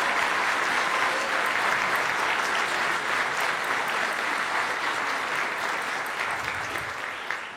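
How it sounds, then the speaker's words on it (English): Sustained audience applause for student performers at a school concert, steady and dense throughout before tapering slightly at the end. "So can we give a round of applause for everyone performing?"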